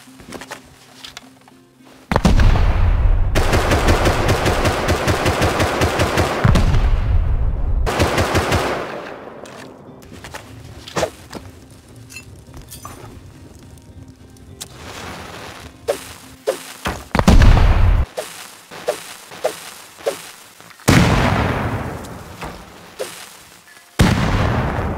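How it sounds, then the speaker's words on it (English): Satchel charges and stored ammunition exploding in the survival game Rust, a long run of loud, rapid crackling blasts and popping rounds that go on for seconds, then a string of sharp separate bangs and a final large boom. "We're gonna throw two satchels, then we're gonna explode ammo, and then we're gonna throw bean cans inside of it"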